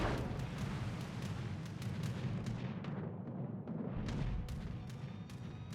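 Battleship USS Alabama's main guns fire in a naval video game, a run of sharp booms over a dense, continuous roar of battle, loud and close throughout.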